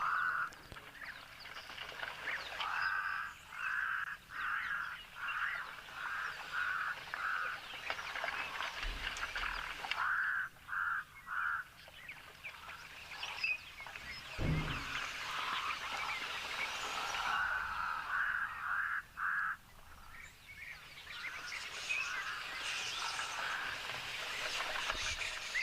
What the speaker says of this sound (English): Great audio as well from those European bee eaters.